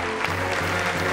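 An audience at the Wam show applauds coach Faye with steady clapping for about a second, fairly loud, with a low hum running underneath.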